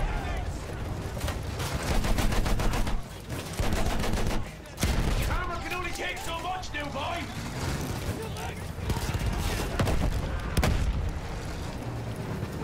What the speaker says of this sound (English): Field guns firing at us.